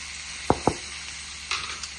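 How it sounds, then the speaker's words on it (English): Chopped onion and tomato hit a hot pot: two sharp splats, then a soft steady sizzle that flares briefly again, close and fairly quiet with no talking. "So I'm adding that to the pot."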